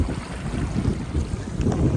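Strong wind buffets the microphone in a low, continuous roar beside a sea-like expanse of water in Palakkad, with a faint wash of water beneath it.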